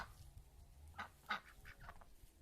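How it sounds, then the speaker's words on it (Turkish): Brown domestic ducks giving several short honking quacks nearby, a few separate calls over a couple of seconds with quiet outdoor background. "Şu kahverengi ördekleri bir seviyorum."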